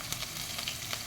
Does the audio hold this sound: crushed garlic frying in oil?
yes